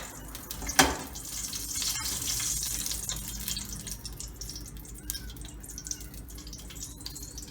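Butter oil poured into a pan and heating for a tempering, an initial splashy pour followed by a soft, steady crackle and sizzle.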